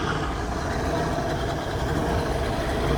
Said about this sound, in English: A lot of boats pulling in the springs here.